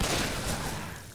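Gunfire in a shooting video game, a short dense rattle of rapid shots heard at moderate volume with nothing else around it.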